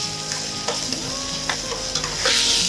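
Calamari sizzles in a paella pan for a seafood paella, a loud continuous frying hiss close by, with a few sharp scrapes and taps as it is stirred, no voices.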